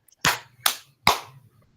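Three sharp hand claps from a small group counting along in a classroom, evenly spaced about 0.4 seconds apart, each a crisp burst that decays quickly into quiet.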